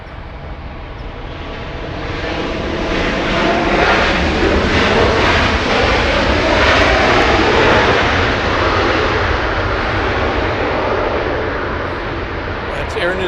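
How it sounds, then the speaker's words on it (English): An Air New Zealand Boeing 777-300ER jet roars in to land at Los Angeles International Airport, its engine noise swelling loud and broad before easing slightly, with people talking nearby. "Air New Zealand Flight 6 inbound from Auckland, New Zealand"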